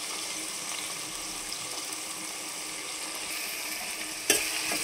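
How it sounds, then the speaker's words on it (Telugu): Onion pieces fry in oil in a pan, a constant close sizzle with light stirring scrapes and a sharp clatter near the end, no voices. "ఉల్లిపాయ ముక్కలు దోరగా వేగిపోయినాయి"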